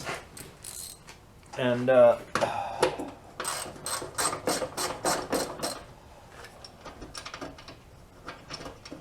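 A ratchet with a 13 mm socket works bolts on the rear bumper of a 1967 Volkswagen Bug, giving several close runs of quick clicking with short pauses between them. A brief spoken word comes early.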